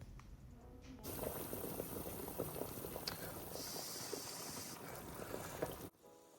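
Pumpkin soup with garlic and thyme simmering in a pot gives off a dense, steady bubbling roar for about five seconds, then cuts off abruptly near the end.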